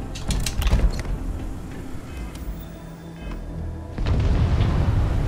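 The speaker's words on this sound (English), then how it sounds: "I tell you, it's gonna explode" A game explosion in Starfield booms out with a burst of broadband rumble and crackle at the start, then eases into a lower rolling roar that swells up again near the end.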